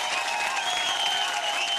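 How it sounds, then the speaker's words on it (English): An audience at an awards ceremony claps loudly and continuously, a dense, even wash of applause throughout the brief moment. "I would like to hear the loudest applause from Mr. Shatrughan Sinha"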